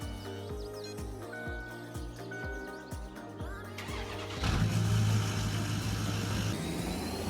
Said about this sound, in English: let's hop in the truck real quick here